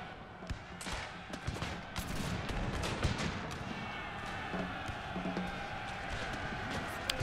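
Musket volleys crackle through a Total War Pike and Shot battle between Poland-Lithuania and Ottoman armies, scattered sharp reports over a dense, constant roar of distant combat and crowd noise.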